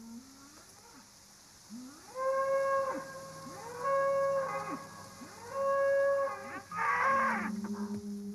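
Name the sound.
cattle mooing, ancient semi-wild cattle breed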